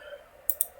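Mouse double click on a button while working at a computer, two quick sharp clicks close together over a quiet steady hum.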